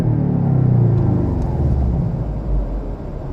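A Porsche Cayman sports car's 2.5-litre engine, manual, idles with a deep, steady rumble close by, swelling slightly before settling again.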